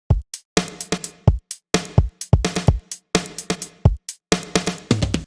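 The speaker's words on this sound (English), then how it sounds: "It features a breakbeat-oriented drum part" Breakbeat-style drum part from the original song stems: punchy kicks and snares in a tight, syncopated pattern with crisp hi-hat accents, loud and dry with short gaps between hits.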